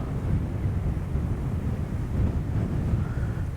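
Steady wind rumbles and buffets across the microphone on the Irpin River while fishing, a continuous low roar with no voices.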